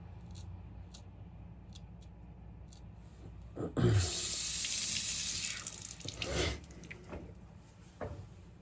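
A hand pump sprayer hisses water onto a Japanese sharpening stone in a couple of strong bursts, with small clicks and drips before and after.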